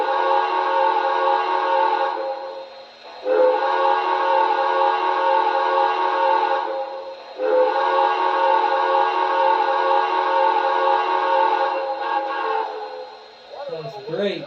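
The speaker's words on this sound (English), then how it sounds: "Let's see what the whistle sounds like here." Steam whistle from an MTH Nickel Plate Road 599 model locomotive gives three long, loud, steady blasts with short pauses between them, followed by a brief voice at the end.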